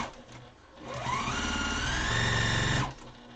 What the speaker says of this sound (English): I top stitch all the way around at about 1/8 of an inch